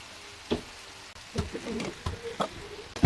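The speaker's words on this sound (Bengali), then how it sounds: "এখন আমি নুডলসগুলো দিয়ে দিলাম।" Noodles go into a hot frying pan with a soft clatter and a rising sizzle, then light scraping and stirring taps continue close by over the crackle of oil.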